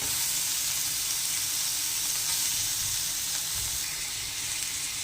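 Chopped tomato sizzles in a pan of lightly fried onions for a curry of potato, cauliflower and rohu fish, with a dense, loud, continuous hiss from start to finish.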